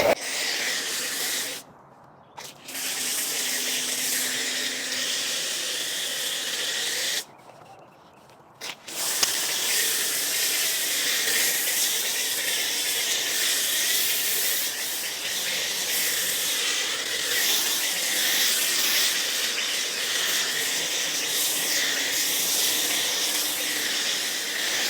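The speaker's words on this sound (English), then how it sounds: "we're gonna foam it on dry, let it dwell for a couple minutes" LaboCosmetica Primus 2.0 foam is sprayed onto a dry car as a decontamination wash before a ceramic coating, making a steady, loud, close hiss broken by two brief pauses, with no talking.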